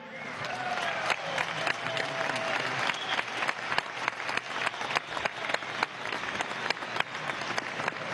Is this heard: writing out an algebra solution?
no